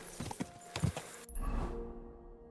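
Horse hooves clip-clop on a road in Kingdom Come Deliverance 2, a brisk close rhythm of hoofbeats followed by a low rumbling swell.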